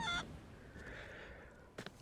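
A chicken in the pirate video game Sea of Thieves gives a short burst of squawking clucks at the start, then quiet game ambience with a faint distant squawk near the end.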